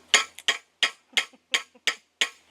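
A big hammer strikes a workpiece seven times in a steady rhythm, each sharp, close, loud blow ringing briefly, with a faint light tap after some strikes and no talking.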